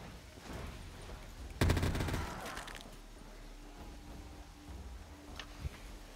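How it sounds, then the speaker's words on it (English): A gun in Black Ops 3 Zombies unloads a rapid burst of shots on a custom map, loud and close, then trails off into quieter game ambience with a stray later crack. "Not me shooting a whole clip at one zombie."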